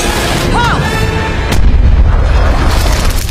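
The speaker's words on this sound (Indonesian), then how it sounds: "Akhirnya meriam itu mengenai Tigers" A cannon fires during a ship battle in the animated film Kung Fu Panda 2, a heavy boom partway through followed by a low rumbling aftermath over dense action sound.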